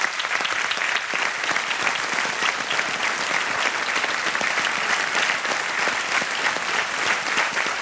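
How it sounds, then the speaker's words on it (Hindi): A studio audience claps steadily, dense sustained applause at even loudness across the whole stretch. "तालियां बज जाए इनके लिए।"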